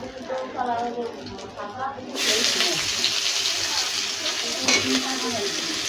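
Onion hits hot oil for a taki fish recipe and breaks into a loud, steady sizzle after a stretch of talking, with a voice continuing over the frying.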